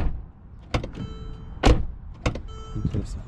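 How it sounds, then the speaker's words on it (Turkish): Door of a 2016 Mercedes-Benz E350 shutting, several short thuds and clicks close by in a quiet car interior, separated by brief motor whirs. "Yalnız kapı sesi de bir acayip."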